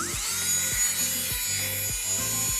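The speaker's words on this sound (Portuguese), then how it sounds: "vou retirar aqui só o excesso com uma broca de ponteira média, rotação acima dos 20 mil" A high-speed electric nail drill fitted with a medium bit whines steadily above 20,000 rpm, removing excess acrylic from a ballerina-shaped nail. Rhythmic dips in pitch mark each pass across the nail, close and continuous.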